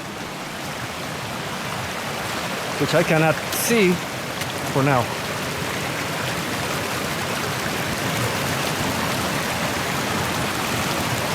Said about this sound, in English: it's a lot of water crossing here